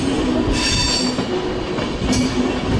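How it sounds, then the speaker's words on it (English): A Swiss intercity train, running Hamburg to Zurich, rolls across the Hohenzollern Bridge in Cologne. Loud, steady rail rumble carries through, with wheel squeal and brief high screeches near the start and again later, and no voices. "Swiss intercity train."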